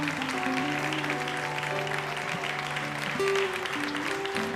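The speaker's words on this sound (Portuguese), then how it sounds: "Aplauda ao Senhor Jesus." Congregation applause during a church service, a dense steady clapping under sustained keyboard or organ chords, continuous and moderately loud throughout.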